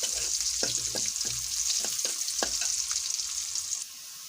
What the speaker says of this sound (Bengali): এখানে পেঁয়াজ রসুন কেটে নিয়েছি, এখন বাগার দিয়ে দিতেছি একসাথে দুটোর মধ্যে দিয়ে দেব।